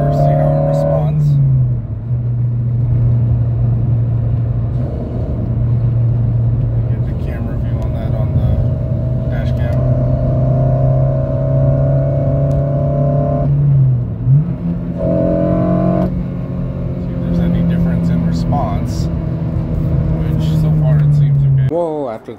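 A 2006–2011 Honda Civic Si running a Hondata FlashPro tune pulls from low revs in fourth gear, its engine drone loud and steady and climbing gradually in pitch over about twenty seconds, with brief dips and a short pause midway.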